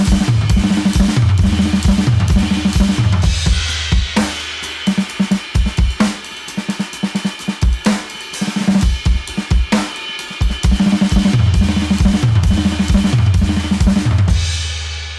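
A drum kit plays a rapid fill of alternating single-stroke sextuplets across kick, ride and snare, dense and loud, with brief gaps between busy bursts and no talking.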